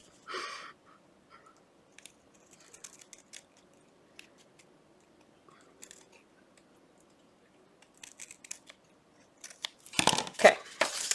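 Scissors trimming a paper pocket, sparse quiet snips and rustles scattered across the stretch, ending in a louder burst of crunchy cutting and paper handling near the end.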